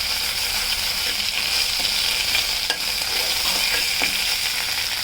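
Ajwain leaves fry in a pan with a loud, continuous hiss of hot oil and occasional light scrapes from stirring, close up.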